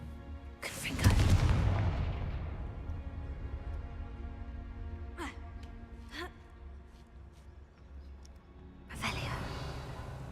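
Spell blasts from the Confringo fire spell in the video game Hogwarts Legacy: a loud booming burst near the start, a few sharp cracks midway, and another blast near the end, with a low rumble between them.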